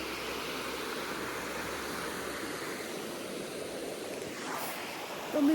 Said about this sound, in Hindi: यहाँ पे नदी की आवाज़ सुनिए आप लोग।